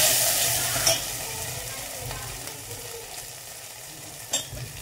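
Curry leaves and thecha sizzle in hot oil for kadhi, a moderate steady frying hiss with a couple of brief spattering bursts, close by and free of speech.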